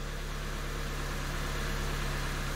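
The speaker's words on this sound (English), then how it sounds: "the engine sounds smooth" A Ford Fiesta engine idles smoothly and steadily after an electronic throttle body fault has been cleared, giving a constant low hum at an even level with no surging, no other sounds, and no voices throughout.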